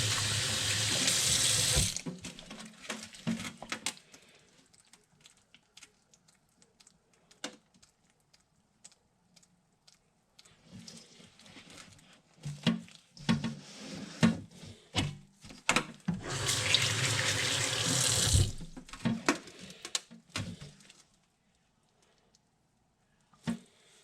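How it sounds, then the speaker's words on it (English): Water gushes from a tap in two long loud runs onto coconut coir, with quieter splashing and handling sounds in between. "A little more water."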